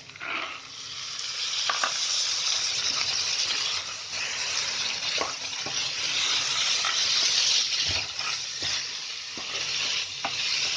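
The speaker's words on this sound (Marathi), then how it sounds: "आता याच्यामध्ये मी चणे टाकते." Red chickpeas fry in roasted masala in a pan, a steady close sizzle with repeated scraping and clacking strokes of a spoon stirring through the mixture, with no voices.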